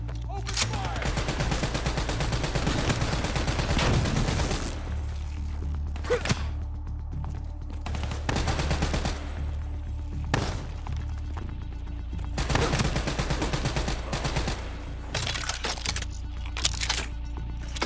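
Call of Duty Mobile gunfire crackles in repeated heavy bursts of automatic fire, loud and close, separated by short lulls and dull thuds.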